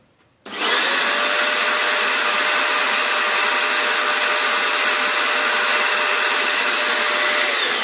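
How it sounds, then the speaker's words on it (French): After a brief quiet moment, a vacuum cleaner switches on and runs loud and steady, a constant high whine with no voices. "Donc je mets l'aspirateur en route, attention ça va faire du bruit."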